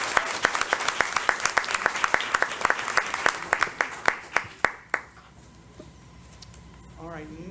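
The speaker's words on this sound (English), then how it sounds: "Let's all join the board in giving her a big round of applause" A modest board meeting audience gives a teacher a round of applause, with crisp, close hand claps that begin briskly, thin out and stop after about five seconds, leaving quiet room tone and a faint voice.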